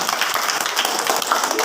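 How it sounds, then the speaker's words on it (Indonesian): Children clap together at an elementary school Isra Mi'raj celebration after a magic trick, a dense steady burst of many small hands filling the short moment. "Tepuk tangan lah."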